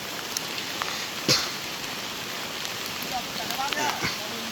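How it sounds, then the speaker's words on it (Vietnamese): Heavy rain hisses steadily beside a forest stream in the Central Highlands during a fishing trip, a dense close wash with occasional louder knocks, and people talk over it. "Mưa to quá mọi người ơi."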